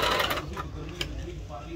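A Singer sewing machine runs a short burst of sample stitching, with quick mechanical clatter that stops and starts over a few seconds, close and moderately loud.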